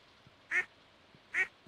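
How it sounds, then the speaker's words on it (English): Two separate duck quacks from Stardew Valley, spaced a little under a second apart, each short and clear over a quiet game background. "Got our ducks and rabbits in this one."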